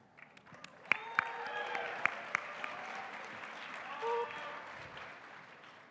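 A crowd applauding and cheering at the SXSW Gaming Awards, moderate clapping building and holding for several seconds with a few whoops, heard from a distance in a large hall.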